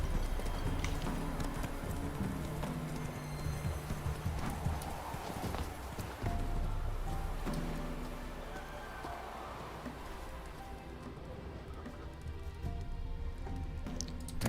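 Hooves of Roach, a horse in The Witcher 3: Wild Hunt, clip-clop steadily at a close walk in the game. Ambient rain and a faint whinny sit beneath the steps.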